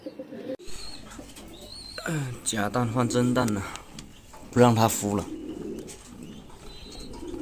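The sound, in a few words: pigeons cooing in the loft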